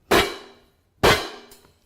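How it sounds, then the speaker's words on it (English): Two sharp, very dry cymbal clanks close together, short and clunky with little ring, the second followed by a faint tap. "Or I might say very dry clank, which would be almost a clunking sound."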